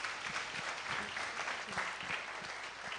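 Audience applause at a higher education finance consultative forum in a hall, sustained even clapping from many hands for about three seconds, no talk over it.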